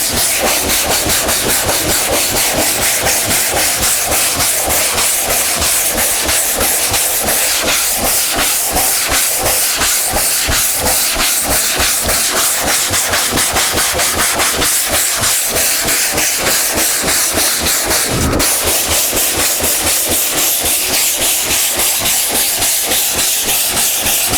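A sanding block rasps rapidly back and forth over guide-coated primer on a car body, a loud, dense rhythm of short strokes running continuously close up with no talking.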